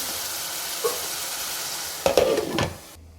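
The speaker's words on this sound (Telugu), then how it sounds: "ఇంకా ఇలా మగ్గిపోతున్నాయి బీరకాయలు మంచిగా మగ్గాలి" Ridge gourd pieces cooking in a pan, a soft steady sizzle with a burst of stirring scrapes near the end before the sound cuts off abruptly.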